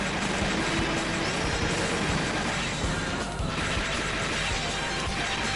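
In the video game Metal Slug 2, a train is pushed backward amid a thick, constant clanking roar, with scattered crashing impacts layered over it.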